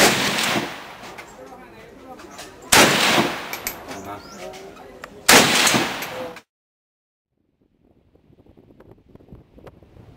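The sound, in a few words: AK-47 rifle gunfire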